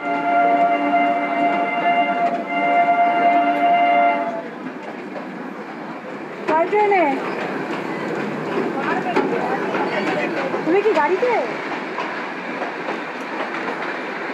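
The Darjeeling toy train runs on narrow-gauge mountain rails, opening with a sustained horn, then steady rumbling and clattering wheels with squealing flange screeches, close and loud, with voices talking over it.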